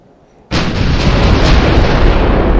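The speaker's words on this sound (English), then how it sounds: "Oh, I hate the way guns work in this game." Heavy gunfire erupts in the Carrier Command 2 video game, a sudden loud blast after near silence that rolls into a sustained, dense roar of firing and explosions.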